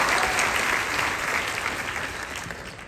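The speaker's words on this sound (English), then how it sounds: "please join me as we give them a round of applause." Dense, steady applause from a graduation ceremony audience in New York, a continuous wash of many hands clapping that stays loud throughout and tapers slightly at the end.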